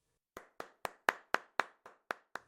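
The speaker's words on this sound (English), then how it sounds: "The clerk in the tank involuntarily applauded." A clerk's brief applause: nine crisp, evenly spaced hand claps at a steady brisk rhythm, close and clean against silence, with no voices.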